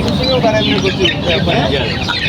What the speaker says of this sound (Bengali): হেলিসের শাক দিচ্ছেন খাচ্ছে দেশি মুরগির বাচ্চা